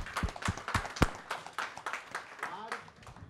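An audience at a felicitation event claps in a steady run of sharp, rhythmic claps that slowly thin out, close and fairly loud, with a voice speaking over them.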